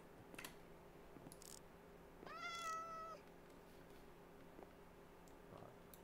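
A cat meows once in the Minecraft video game, a single drawn-out meow in the middle of otherwise quiet game background with faint ticks.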